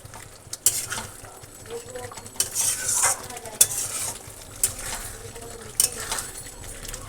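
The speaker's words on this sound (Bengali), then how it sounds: "তো তারপর দেখো আলুগুলোকেও মিক্সড করে দিয়েছি" Potatoes are stirred into fried spice masala in a pan, with a spoon scraping and clinking against the metal over a soft steady sizzle; close and fairly quiet, with no voices.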